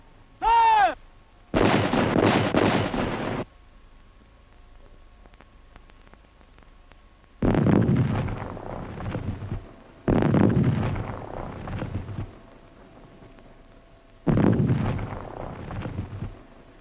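A 75mm gun fires armor-piercing shells in several loud, booming reports, each followed by a long rumbling roar and decay, spaced a few seconds apart, with a brief whistle-like tone at the very start.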